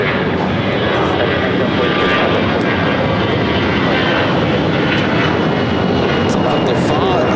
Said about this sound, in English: the A330 going to be taking off on 25 right